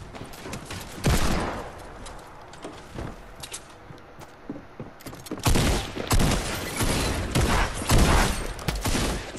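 Video game combat with thrown grenades going off and gunfire: loud, irregular clusters of shots and heavy blasts, separated by short quieter gaps.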